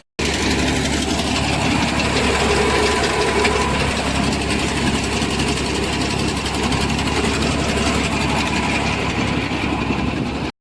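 A tractor engine runs continuously nearby at a loud, steady idle-like rumble with a rattling knock, out on a farm during onion harvesting and seed extraction, with no pauses.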